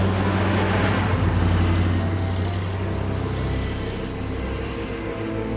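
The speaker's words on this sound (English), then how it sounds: "It also makes the beautiful noise which only a V8 can produce." A Ford V8 engine in a Jensen luxury sports car runs steadily, a deep continuous rumble with a low throbbing idle that swells slightly and then eases, close by with no talking.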